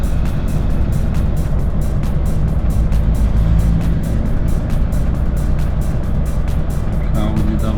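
Cars, including a taxi and an Audi, driving past at the Russia–Belarus border crossing, a loud steady road roar with rapid regular ticking throughout, heard close by.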